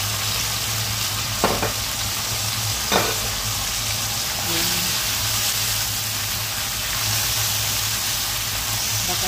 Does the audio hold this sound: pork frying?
yes